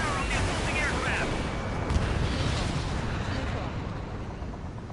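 Missile launches and explosions from the Ace Combat 7 aerial combat video game make a dense, loud roar of rumbling blasts and whooshes with a brief hiss of missile streaks, while radio chatter carries on over it.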